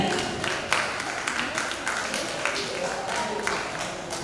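Audience applause at a cultural prize ceremony in Taki, a steady, fairly faint patter of many hands clapping for a few seconds, with no voice over it.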